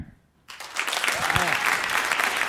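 An audience breaks into applause after a brief pause, the clapping quickly building into a full, sustained wash with a voice briefly heard under it.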